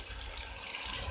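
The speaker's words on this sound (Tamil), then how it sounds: "இப்போ இதை வந்துட்டு நம்ம தண்ணி எடுத்துட்டு இதில் சேர்த்திக்கலாம்." Water poured from a container into a pan of brinjal and potato curry, a steady close gush and splash filling the whole moment with no speech.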